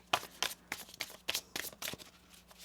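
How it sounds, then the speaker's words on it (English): Tarot cards are shuffled by hand close up, giving a quick run of crisp riffling bursts in an uneven rhythm with no talking. "One more shuffle."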